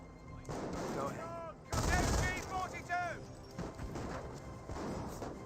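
Gunfire from an MG42 machine gun in the strategy game Company of Heroes, a dense battle mix of repeated crackling bursts and impacts that stays loud throughout, with a short lull near the start, alongside the game's combat effects.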